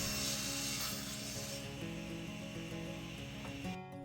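Saw cutting wooden plant stand legs to length on a miter sled, a loud continuous whine and cutting roar that holds steady, then drops away near the end.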